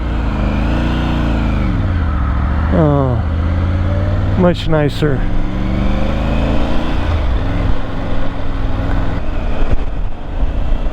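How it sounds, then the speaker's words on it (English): A 2023 Triumph 900 GT Pro motorcycle engine hums under a rider making a slow U-turn, its note rising and falling in smooth revving sweeps with a couple of sharp throttle blips midway. Someone talks briefly over it. "Let's see if I can U-turn this puppy."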